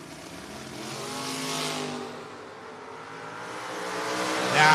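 A 1981 Camaro on a drag strip during a bracket racing run, heard as a distant, sustained engine roar that swells and fades, then rises louder at the end.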